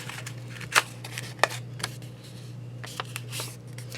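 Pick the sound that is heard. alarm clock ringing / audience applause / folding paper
folding paper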